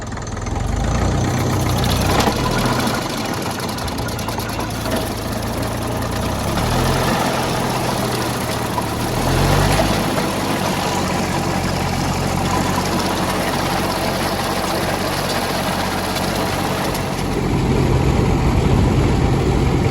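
A Ferguson TE20 tractor engine runs steadily in first gear while driving a finger bar mower, a loud continuous low rumble and clatter that holds throughout and swells slightly near the end, with no talking.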